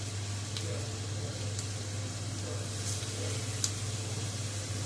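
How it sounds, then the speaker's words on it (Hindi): Marinated zinger chicken pieces frying in oil make a soft, steady sizzle under a low hum, broken by a few faint crackles and pops. "ये फ्राई करना है।"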